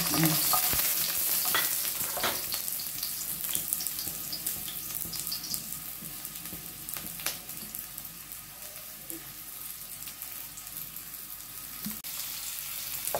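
Beef brisket frying in hot oil, a loud, crackling sizzle that bursts at first as the meat hits the oil, then settles into a steady hiss with occasional scrapes, no voices.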